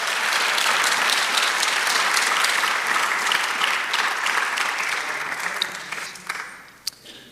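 Church congregation applauding in steady, dense clapping that fills the room at full strength before thinning and fading out near the end, with a few stray claps at the close.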